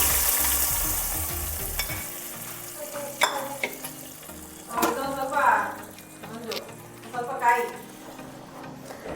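Cashews and raisins fry in ghee for festive payasam, giving a soft steady sizzle with faint stirring scrapes and a few brief clinks. The sound stays moderate throughout and no one speaks.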